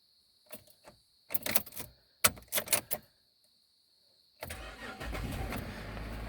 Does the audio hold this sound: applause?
no